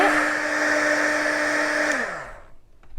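A hair dryer blows steadily up close to dry a coat of paint on a birdhouse, a loud even whir that winds down and stops near the end.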